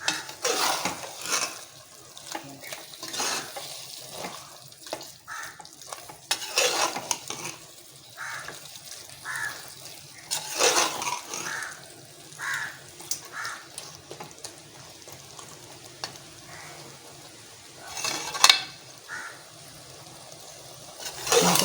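Chicken sautéed in a pot for dum biryani: a spoon scrapes and knocks against the pot in irregular strokes over a soft sizzle, close by, with no talking.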